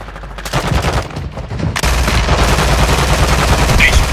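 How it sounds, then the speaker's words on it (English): Sustained automatic gunfire from a Warzone match, loud and dense for the whole stretch, with rapid overlapping bursts and heavier volleys, rising sharply partway through and continuing without a break. "Taking effective fire!"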